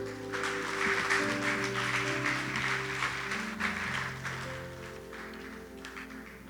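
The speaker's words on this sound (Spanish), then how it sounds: "Denle un fuerte aplauso al Señor." Loud, sustained applause from a church congregation, steady clapping over a held organ-like musical tone that continues throughout.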